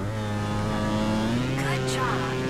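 Motorbike engine revving under the throttle in Trials Fusion, a loud steady droning tone that climbs in pitch as the gas is held, with a voice briefly speaking over it near the end.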